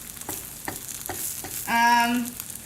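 Eggs frying in a pan for over easy or sunny side up, a steady close sizzle with stirring clatter and a brief louder tonal scrape near the end.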